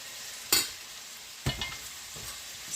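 Spaghetti squash being stirred in a hot pan, a few distinct scraping strokes about a second apart over a faint steady sizzle, close and fairly quiet.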